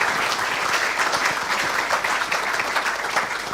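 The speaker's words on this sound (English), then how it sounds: "round of applause for Jamie Nepia." A crowd at a Māori sports awards ceremony claps for an honoree, a full, sustained round of applause filling the room at even loudness throughout.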